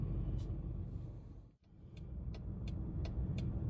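A warmed-up car's engine rumbling steadily from inside the cabin as it pulls away, a continuous low drone with a brief dip partway through, no talk.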